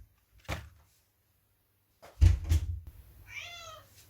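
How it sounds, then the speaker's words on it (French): A cat meows close by in a short rising-and-falling call, following a couple of brief thumps and knocks. "C'est mon chat, je l'aime."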